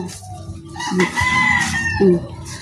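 Chickens on a rural property let out a loud nearby rooster crow along with clucking from other fowl, the calls arriving in short bursts with quiet gaps between them.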